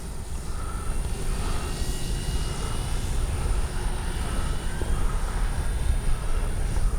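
RC F4U Corsair warbird model airplane engine drones steadily at low throttle during a landing approach, a continuous mid-distance buzz with a faint high whine riding on top and no voices.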